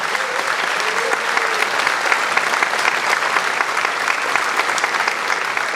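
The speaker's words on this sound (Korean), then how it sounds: "다시 한번 대통령님께 큰 박수 보내주시기 바랍니다." A large audience applauds the new South Korean president at his inauguration ceremony, a dense, sustained wash of clapping that stays even and fairly loud throughout with no speech on top.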